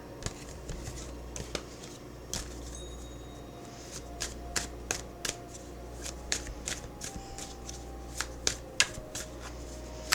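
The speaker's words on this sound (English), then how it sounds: "Let's turn that card around." Tarot cards being handled and turned over, giving a string of sharp card flicks and shuffling snaps over a low steady hum, with no talking.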